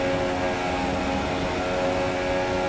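A Formula 1 car held at full throttle through Eau Rouge at Spa in the F1 2017 racing game, a steady, loud, high-revving engine drone with no letup.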